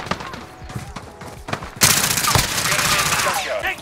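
Gunfire in Modern Warfare: scattered single shots give way to dense, loud automatic bursts, with voices calling out under the firing.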